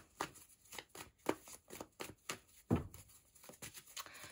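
Tarot cards are shuffled and drawn in a quick series of soft riffling slaps and flicks, close and fairly quiet, with a brief crisp burst partway through.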